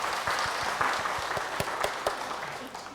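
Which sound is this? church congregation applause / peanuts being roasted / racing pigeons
church congregation applause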